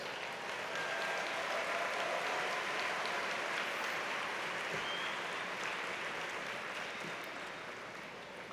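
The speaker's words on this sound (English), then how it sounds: "Give yourselves a round of applause." A college commencement crowd applauds steadily for several seconds, a dense wash of clapping that tapers slightly toward the end.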